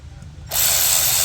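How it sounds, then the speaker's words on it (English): A hand ratchet tightens the ignition coil bolts on a Mercedes CLS 400 3.0 V6 turbo C218 engine, a dense, close rapid clicking that starts abruptly after a brief quiet moment. "we need to install the two bolts that hold the coil"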